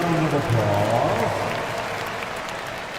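Crowd applause in a basketball arena during a game break, a broad sustained roar of clapping that holds steady then slowly fades, with an announcer's voice over the top.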